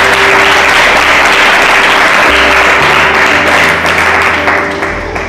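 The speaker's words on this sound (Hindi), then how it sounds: "एक बार वचन के लिए ताली बजाए जोर से।" A church congregation clapping loudly and steadily during a Hindi sermon, a dense continuous wash of applause that fills the room and tapers slightly at the end.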